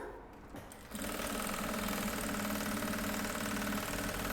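An industrial sewing machine stitches a trapezoid box toiletry bag, starting after a brief quiet handling moment and then running as a steady, loud, fast mechanical whir with rhythmic needle clatter.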